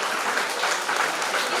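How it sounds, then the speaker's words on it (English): Steady, dense applause from an audience honoring winners at a university project expo valedictory programme, continuous and fairly loud with no pauses. "Let's give a huge round of applause for the winners."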